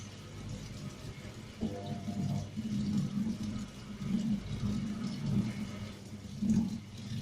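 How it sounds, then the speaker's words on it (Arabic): A Toshiba top-load automatic washing machine draws in rinse water, a steady low gushing and rumbling flow that continues throughout with small surges, close by and without talk. "بتسحب ميه عشان تشطف"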